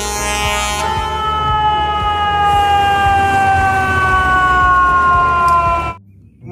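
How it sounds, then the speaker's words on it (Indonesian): A toy fire truck siren wails loudly and steadily for about six seconds, its pitch gliding slightly downward, then cuts off abruptly. "Pemadam kebakaran."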